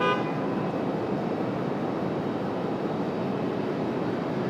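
An aircraft landing on runway 23 right at Raleigh-Durham airport, heard as a steady, dense roar of jet engine noise that holds level throughout, with no voices.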